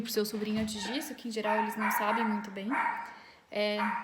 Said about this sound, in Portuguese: Desculpa o barulho do cachorro.